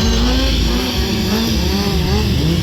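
Stunt-show motorcycle held at steady revs going into circle wheelies, a loud continuous engine drone with a wavering pitch throughout.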